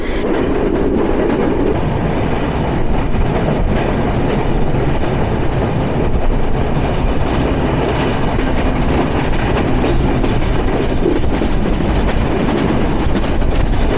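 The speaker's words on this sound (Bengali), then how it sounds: "পঁয়ষট্টি চোদ্দো ডাব্লুডিএম থ্রি এ লোকোমোটিভ নিয়ে" Silk City Express running behind a WDM-3A diesel locomotive: a loud, steady rumble of wheels on rails with clickety-clack rhythm, continuous and close throughout, with no talking.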